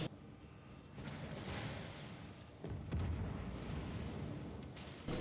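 Warship guns boom in a point-blank broadside during a World of Warships naval battle, heard as muffled, rumbling blasts with a steady roar between them and a sharper crack near the end; fairly faint, with no talk.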